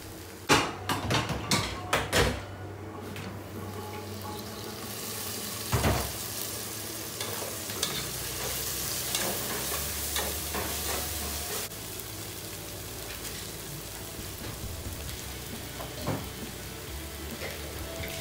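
Crushed ginger and garlic frying in a covered pan, a dense continuous sizzle with a burst of sharp clatters and knocks at the start, then settling into a steady hiss.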